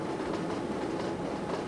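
A train in Transport Fever running at around 300 kph, giving a dense, steady rumbling roar that stays loud and close throughout, with no voices.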